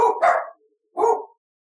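Dogs barking indoors nearby, a quick double bark followed by a single loud bark after a brief pause.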